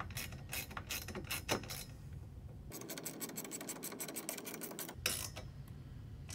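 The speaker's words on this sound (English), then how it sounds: "You can hold this side with a pair of pliers and then tighten down the nut on this side." Metal nut being tightened with a wrench while pliers hold the other side of a flat TV ceiling mount pole: close rasping, ratcheting scrapes and creaks in bursts, with a brief quiet gap mid-way.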